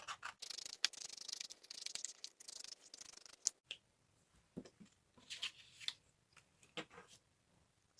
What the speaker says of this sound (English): I'm just getting my scissors, I'm just cutting into this and then just cutting around